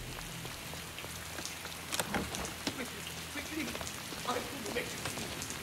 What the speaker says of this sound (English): And on top of everything, it's raining.